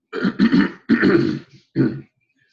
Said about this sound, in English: I have to clear my throat all the time